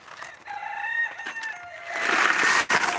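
A rooster crows loudly nearby, its drawn-out call rising over a busy outdoor background, with scattered clucks from other chickens.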